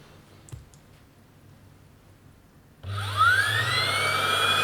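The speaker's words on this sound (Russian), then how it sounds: "давайте теперь послушаем голос пылесоса" A vacuum cleaner used as a vibration speaker plays a 50 Hz tone. After near silence, a loud, steady low hum starts abruptly, topped by a rising whine that holds to the end.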